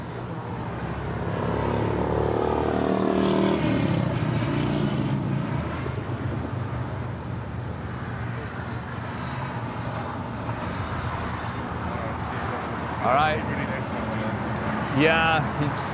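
An American Airlines jet takes off from runway 25 right at Los Angeles International Airport, a broad, steady engine roar that swells early and holds, with voices talking over it.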